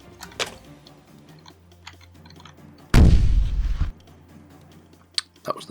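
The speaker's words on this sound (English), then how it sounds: "That was the best bomb ever" A bomb explodes in the video game Bombing Quest, a single heavy boom with a rumbling roar lasting about a second, framed by small game clicks and taps before and after.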